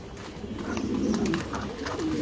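Pigeons on a farm in Mirpur, Dhaka, coo steadily and close by while being fed, a low continuous murmur of several birds with no talking.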